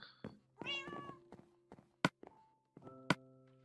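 A Minecraft cat meows several times in a Xbox One game session, interspersed with sharp taps and thuds from in-game actions, fairly quiet overall.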